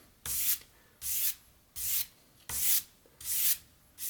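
A utility knife blade is drawn across 400 grit abrasive in six even, rhythmic strokes, each a close, bright scraping rasp separated by short pauses.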